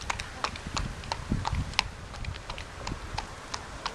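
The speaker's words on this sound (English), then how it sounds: "She's parading the horse around out in the street." A horse's hooves clip-clop steadily on a street, close and continuous, with faint background noise and occasional light voices.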